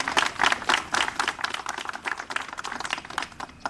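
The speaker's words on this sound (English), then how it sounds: "let's give them a round of applause" A small group at a press conference applauds, with quick, uneven claps that carry on steadily and taper slightly toward the end.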